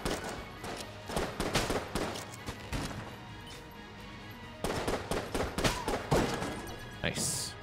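Rapid bursts of gunshots from the twin-stick shooter Enter the Gungeon come in clustered volleys with a brief lull midway, under backing music and a few short game effects.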